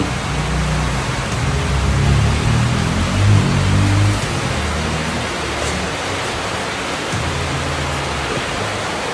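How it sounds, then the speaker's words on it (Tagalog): Steady, dense rain hisses continuously with a low rumble underneath, even and unbroken throughout. "ulan-ulan na naman"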